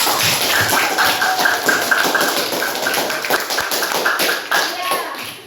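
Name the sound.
classroom students clapping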